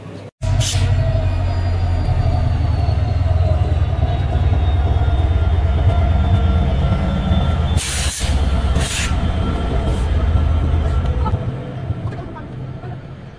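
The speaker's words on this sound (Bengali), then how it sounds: "অবশ্যই চলে যাচ্ছে মহানগর প্রভাতী লাকসাম স্টেশন ছেড়ে বেলা 11টা 35 মিনিটে।" Mahanagar Prabhati passenger train pulling out of Laksam railway junction: a steady, loud low rumble of rolling wagons and wheels on track fills the whole span, with brief hissing bursts and faint squeal, fading slightly at the end.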